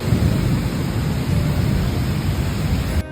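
A rolling thunder rumble during a night storm, heavy and continuous under a steady hiss of rain, stays loud and near throughout, then cuts off abruptly at the end.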